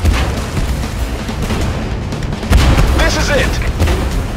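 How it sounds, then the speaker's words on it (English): Artillery explosions boom repeatedly in a war video game, with heavier blasts around the middle and later, a steady battle rumble throughout and a voice shouting over it. "We are under bombardment!"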